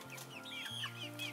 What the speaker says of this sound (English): I just love my chickens.